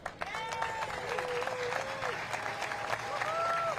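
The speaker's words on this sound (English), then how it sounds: "can we give a round of applause for the hard-working and dedicated women and men of the Milwaukee County Transit System?" Audience applause for the Milwaukee County Transit System workers at a summer service launch event, a steady wash of clapping with a few rising whistle-like tones over it, lasting several seconds.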